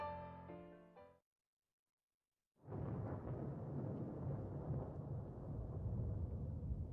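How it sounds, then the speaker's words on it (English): A thunderstorm sound effect in a PS Vita graphic audiobook: after a brief musical phrase cuts to silence, a deep rumbling roar of thunder and rain swells in and continues steadily, loud and enveloping. "The storm has finally come."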